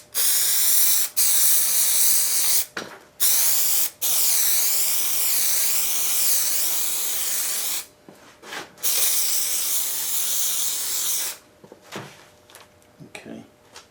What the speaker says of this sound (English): so you don't get overspray over everything